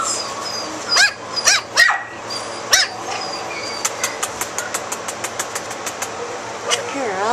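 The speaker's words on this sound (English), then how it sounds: "What a big bark she had." A dog lets out four loud barks close by, then a rapid ticking engine-like sound follows.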